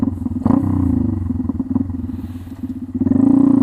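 A Honda Grom motorcycle engine running loud and close, with a rough, throbbing drone and small popping crackles breaking through it.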